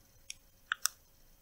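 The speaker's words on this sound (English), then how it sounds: "Got to do five more clicks to go back on." The button on a Mini Bolt 52W vape mod being pressed, three faint, crisp clicks, one alone and then a quick pair close together, against a quiet background.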